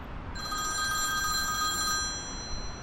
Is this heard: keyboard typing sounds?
no